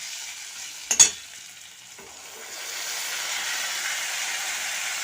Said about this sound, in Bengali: টমেটোটা ভেজে নেব ভালো করে যাতে সিদ্ধ হয়ে যায়